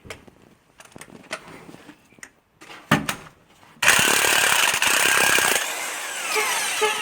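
A pneumatic impact gun rattles loose 15 mm cylinder head bolts on a 5.3 V8 engine, opening with a few short bursts before a long, loud, continuous hammering run close by.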